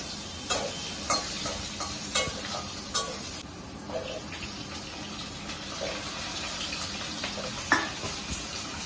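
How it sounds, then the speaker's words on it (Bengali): Potato and eggplant pieces frying with panch phoron in a pan, with soft sizzling, stirring and occasional clatter of a utensil, close and moderately quiet. "মৌরি পুরন, আলু আর বেগুন ভেজে নিচ্ছি।"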